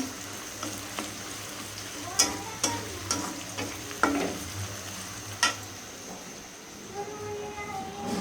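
A pan of onions sizzles as they fry for pabda fish curry, with clattering stirs of a utensil and sharp metallic taps over a continuous crackle, and a voice speaking faintly nearby.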